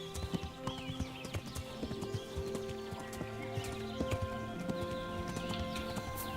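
Horse hooves clip-clopping at a steady walking rhythm in Kingdom Come: Deliverance, with a whinny and tonal game music underneath, moderately quiet and close.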